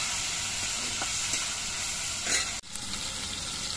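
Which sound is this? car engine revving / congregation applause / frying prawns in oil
frying prawns in oil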